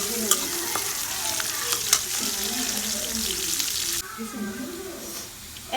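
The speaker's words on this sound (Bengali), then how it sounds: "এখন পেঁয়াজটা লাল লাল করে ভাজা হয়ে গেছে।" Onions fry in a pan for a Bengali braised oxtail dish, a steady loud sizzle with stirring scrapes throughout, the sizzle softening slightly near the end.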